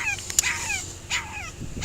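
A tiny puppy stuck under the front seat of a hot car lets out several thin, high whimpers and yips in quick succession, close and clear, with no one talking.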